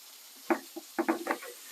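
Steak frying in a pan, a few short crackling sizzle bursts and pops, close and fairly quiet, with no talk.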